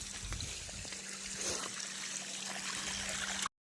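Irrigation water trickles steadily into a banana field. A soft, continuous flow sounds for about three and a half seconds with a faint low hum beneath it, then the sound cuts off abruptly.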